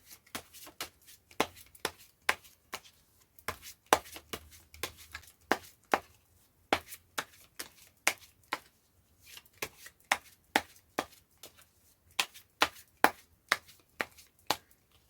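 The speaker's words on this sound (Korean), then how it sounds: "저 또한 같은 것을 생각하면서 카드를 섞어 보도록 할게요." Tarot cards being shuffled by hand up close, a quiet series of quick, papery riffles and taps in an uneven rhythm, with no talking.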